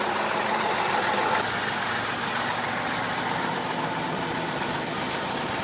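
Special forces vehicles drive past in Vasylkiv, giving a steady, loud engine roar and road rumble that stays constant and nearby for the whole stretch.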